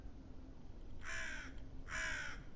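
Two harsh caws from a bird in the video game Tick Tock: A Tale for Two, each about half a second long with a short gap between them, over a quiet steady background with no speech.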